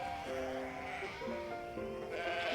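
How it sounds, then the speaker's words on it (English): Sheep bleating in a pen with a wooden fence in a video game scene, several drawn-out wavering bleats overlapping one after another, moderately near and fairly quiet, with no talk. "I point at the sheep in the pen who are charging and restlessly bumping into the wooden fence."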